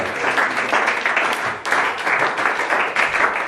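A church congregation at a worship service claps and cheers loudly in steady, dense applause that swells and dips, with a brief lull midway before rising again.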